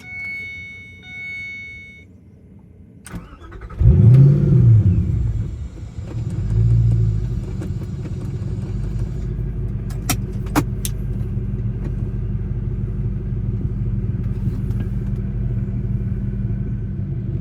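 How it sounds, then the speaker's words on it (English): A 2006 Ford GT sports car engine turns over with a brief burst, then settles into a deep, steady rumble that continues alone with a few faint clicks on top. "In my 2006 Ford GT"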